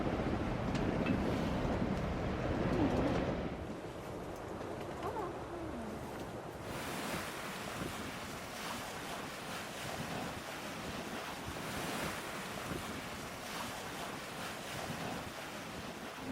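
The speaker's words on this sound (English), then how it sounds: "Seems like the wind is dying down now when we're getting closer to Malmö." Wind and surf wash steadily around a Najad 440 sailboat under way near Malmö, a broad constant roar of waves and gusty wind noise on the microphone, louder in the first few seconds and then settling to an even rush.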